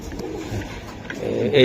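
Racing pigeons, Budapest breed, coo softly in a brief low burble, close by, with a voice talking alongside.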